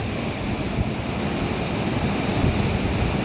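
The Hasangi river flows in a steady, close wash of water, broad and unbroken, with some wind rumble and no talking.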